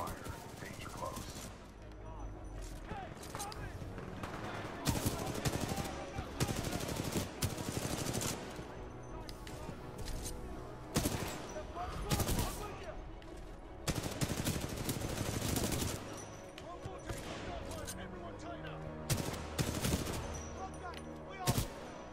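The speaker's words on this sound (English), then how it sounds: "Commencing supporting fire. Danger close." Supporting gunfire in Titanfall 2 pounds through dense, continuous bursts of automatic fire and heavy impacts, loud and close, with voices speaking intermittently over the battle.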